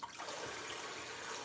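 Warm water pours steadily into a container for reclaiming clay, a close, soft, continuous splashing rush lasting just over a second.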